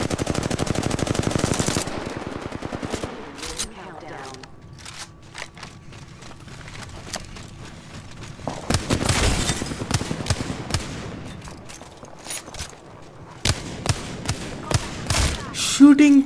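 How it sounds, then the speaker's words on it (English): Automatic gunfire from the video game Apex Legends, with rapid bursts and single shots in clustered volleys separated by quieter gaps, and a voice speaking over parts of it. "Shooting through a stone."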